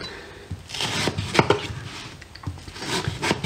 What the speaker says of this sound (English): with the slice of watermelon, we can just run our knife